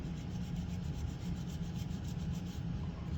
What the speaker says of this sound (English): you want to make sure that you scrub all the pieces that you can